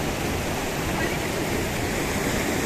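A fast, high-velocity stream near Manali roars as a steady, dense rush of water, loud and close, with no breaks or other sounds standing out.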